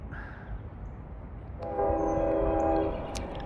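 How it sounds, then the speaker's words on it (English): A train horn sounds from a distance along a rural rail branch of the Montour Trail, one sustained chord-like blast rising out of steady background rumble and fading after about a second. "a train's horn"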